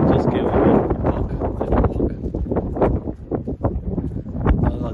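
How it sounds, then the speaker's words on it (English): Strong wind buffets the microphone on a long sea wall out in the sea, with gusty roaring rumble rising and falling throughout, fairly loud and close, with no clear talk. "it's very windy"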